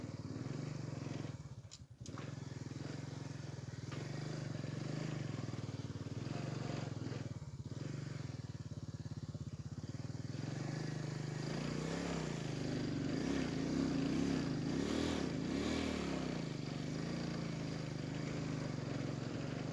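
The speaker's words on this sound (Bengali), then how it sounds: "বালির মাঝে মোটর বাইকের চাকা আটকে যায়" A motorcycle engine drones steadily throughout on a sandy road, its pitch rising and falling as it labors with wheels sticking in sand, with a brief dip early on.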